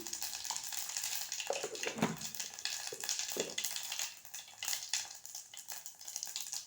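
Cumin and mustard seeds hit hot oil and sizzle steadily, crackling and popping close up, with a few scraping stirs and no talking.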